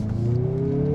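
A 2023 Mazda CX-50 Turbo pulls away under firm throttle, its engine note climbing steadily in pitch through a smooth, close-up drone with no talking.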